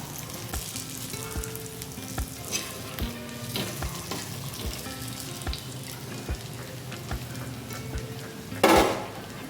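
Cabbage pakoda frying in hot oil gives a steady close bubbling sizzle, with regular soft clicks throughout and a louder burst of splashing noise near the end.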